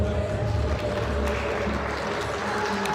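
Capacity home crowd for the Detroit Imperial at a playoff quarterfinal, steady broad applause and crowd noise filling the background while an announcer talks over it.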